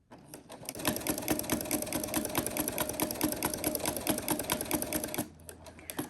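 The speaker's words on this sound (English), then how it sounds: "we're gonna keep stitching and we're gonna stitch all of our lines" Sewing machine running steadily, stitching seam lines on a fabric zipper pouch, a fast even mechanical rattle for about four seconds before it slows to a quiet hum.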